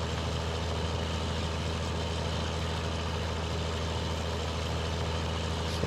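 A struggling tractor engine from Farming Simulator 19 on PS5 runs with a steady, low idling drone, constant and unbroken with no talk over it.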